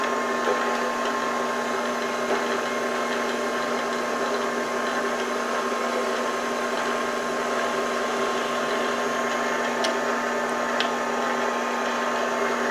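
A 4x6 horizontal bandsaw running its blade with an oversized weld, a steady motor hum and whir with a constant tone and faint periodic ticks as the weld passes, close and alone.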